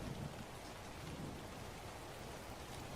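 Rainy campfire ambience plays as a dense, steady wash of rain, with a low rumble of thunder near the start, holding even for a few seconds and with no talk.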